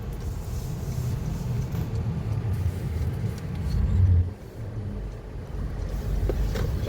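A Honda Vezel with a freshly recalibrated automated gearbox drives along. Inside the cabin there is a steady low engine and road rumble, which swells and then dips briefly as a smooth gear change comes through.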